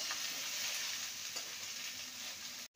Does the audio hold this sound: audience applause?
no